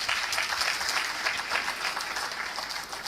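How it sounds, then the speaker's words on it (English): A large audience at an African economic development gathering claps in a dense, even round of applause, sustained and fairly loud for the whole stretch with no speech over it. "let's give them a big round of applause"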